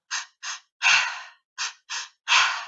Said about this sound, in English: you'll breathe in and out through your mouth